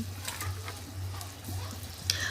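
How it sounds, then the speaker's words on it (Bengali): Fried fish pieces drop one at a time into a boiling spice broth, with a soft continuous sizzle, scattered light splashes and a low steady hum underneath. "সেই ভাজা মাছগুলো একটা একটা করে আমি মানে দিয়ে দিচ্ছি।"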